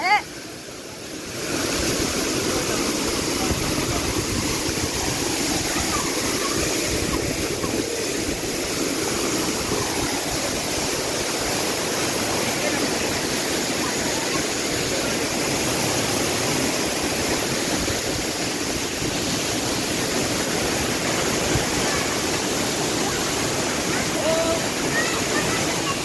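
A monsoon waterfall at Talavade in Devgad, Konkan, roars as a steady, dense rush of falling water, loud and unbroken from start to finish after a brief softer opening.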